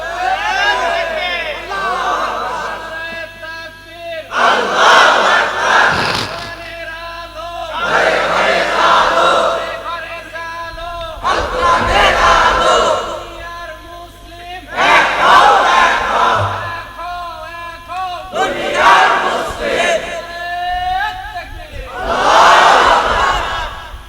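A large crowd at an Islamic sermon gathering roars the takbir in unison, six or seven loud chanted calls in a steady rhythm with brief pauses between them, echoing through the venue.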